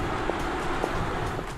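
An Audi R8 e-tron electric supercar rolls past with no engine sound, leaving only a steady broadband rush of tire roar and wind noise, with a few faint ticks.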